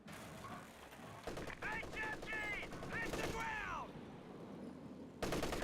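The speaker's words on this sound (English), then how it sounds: "MG34 firing away, hits Lieutenant" An MG34 machine gun rattles off rapid bursts in the World War II strategy game Company of Heroes 2, mixed with battlefield noise and shouted in-game soldier voices.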